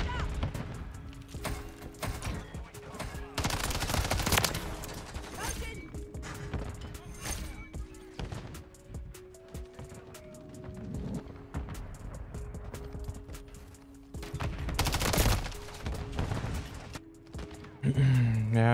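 MTZ 556 rifle firing in Modern Warfare 3 gameplay, with sharp repeated bursts clustered near the start and again mid-clip among loud crashes and game effects, over a constant game soundtrack.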